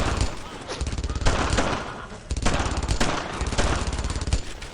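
Sustained machine gun fire from a World War II battlefield in Brothers in Arms: Earned in Blood, rapid loud bursts in several volleys with short pauses, mixed with other gunfire and faint voices.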